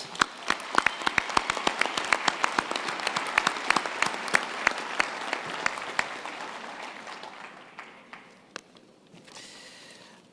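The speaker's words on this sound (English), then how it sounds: "I think we can give them another hand of applause" Audience applause at a university winter graduation ceremony, loud and dense at first with sharp individual claps standing out, then thinning and fading to scattered claps toward the end.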